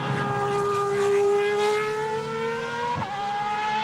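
A 2008 Superleague Formula race car circulates the Nürburgring during qualifying, its engine holding a loud, steady high-pitched drone that dips slightly as it eases off, with a brief jolt near the end.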